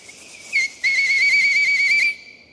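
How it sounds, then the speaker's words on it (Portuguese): A shrill whistle gives a short blast, then one long steady tone of about a second and a half, clear and close with nothing else over it. "Apito."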